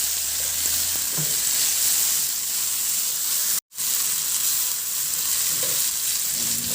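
Onion and tomato sauté in a hot pan for a chicken dish, a loud steady sizzle with occasional stirring scrapes and a brief dropout in the middle, no talking.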